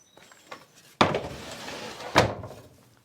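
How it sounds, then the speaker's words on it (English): A Peugeot Boxer 2015 van's sliding side door on redesigned runners, heard as two heavy thunks about a second apart, the first sharp slam followed by a rolling rumble and a second loud bang, close by with no talk. "you'll be pleased to find that the sliding side door aperture is decently wide"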